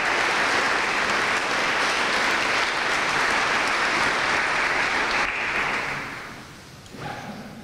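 An audience at a talk with Peter Opeka applauds loudly and evenly for several seconds, then the clapping thins and fades near the end.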